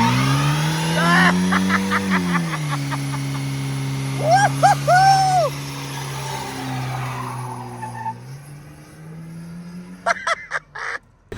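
A Chevy S10 pickup truck revs hard on nitrous during a burnout, its loud engine drone rising and holding, with brief squealing tire chirps in the middle and sputtering pops near the end.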